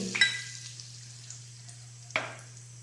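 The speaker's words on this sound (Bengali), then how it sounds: "তেল দিয়ে দিয়েছি, এবার তার উপর দিয়ে দিলাম হিং" Asafoetida hits hot oil for a cauliflower dish, giving a soft, faint sizzle over a steady low hum, broken by two sharp clicks of a utensil.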